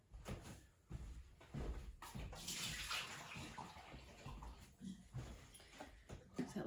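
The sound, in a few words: rinsing out a baking dish with water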